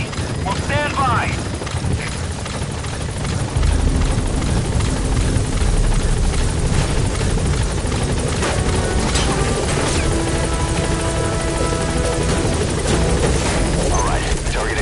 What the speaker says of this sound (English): Get on the chopper.